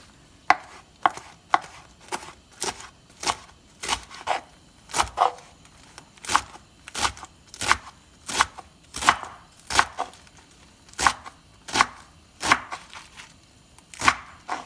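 A knife chops through rolled-up, garden-fresh collard greens in a steady, even rhythm of close, crisp strikes, about two per second, with no talking.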